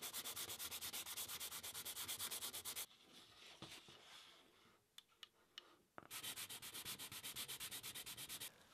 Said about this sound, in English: I'm gonna put this, the nut on here, but it's a little big, so I have to sand it down a bit to make it fit in here